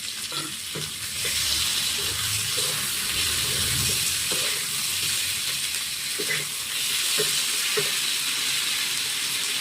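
Potatoes for aloo dum fry and get stirred in a pan with garlic paste and ginger-cumin paste, giving a steady close sizzle with scattered scraping knocks of the spoon throughout.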